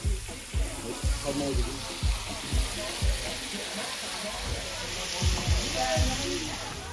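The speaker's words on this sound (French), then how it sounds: "aujourd'hui, il fait friture alors, hein. Il fait peu par peu là alors" Food frying in a pot at an outdoor grilled-pig evening gives a steady close sizzle, punctuated by repeated rhythmic scraping or stirring knocks throughout.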